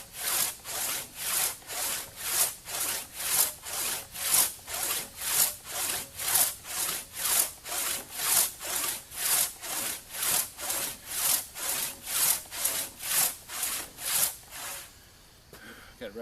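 A one-man crosscut saw cuts through wood in a long, steady run of rhythmic rasping strokes, about two per second, loud and close, before the sawing stops near the end.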